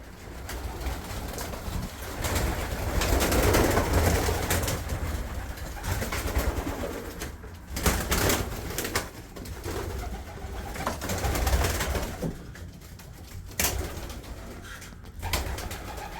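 Pigeons coo in a loft, giving repeated soft, throaty calls up close over a continuous bed of rustling and flock noise, with no speech.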